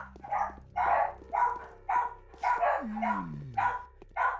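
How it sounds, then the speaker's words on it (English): Dogs bark in a steady series of sharp, close, evenly spaced yaps, a low hum underneath and a brief whine sliding downward near the middle. "Sorry about the dogs."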